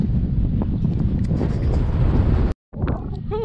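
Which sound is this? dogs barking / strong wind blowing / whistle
strong wind blowing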